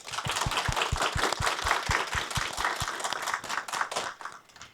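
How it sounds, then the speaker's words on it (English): Panelists at a live women's conversation event are welcomed with applause, a cluster of loud, close hand claps with distinct strikes over a fuller crowd clapping, tapering off at the end. "Let's welcome our panelists with a big round of applause"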